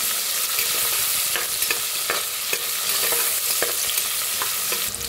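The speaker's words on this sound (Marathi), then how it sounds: "त्याच्यात टाकूया कांदा, त्याच्यात टाकूया कढीपत्ता, भाजून घेऊया" Onion and curry leaves fry in hot oil with cumin, mustard seeds and a pinch of asafoetida for masala rice, giving a steady close sizzle broken by the clacks of a stirring spoon against the pan.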